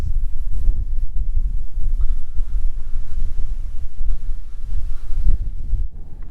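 Strong wind buffets an overnight campsite in a continuous, loud, low roar that gusts and rumbles against the microphone.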